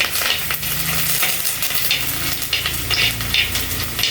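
Chillies sizzle and crackle in a hot pan of oil for a Kerala sardine curry, with a steady close frying hiss and occasional stirring scrapes.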